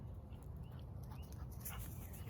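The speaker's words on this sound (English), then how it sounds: "This is a different dog." A dog whimpers softly and pants quietly nearby during a calm indoor qi gong session, a short faint stretch of breathy huffs and small whines with no talking.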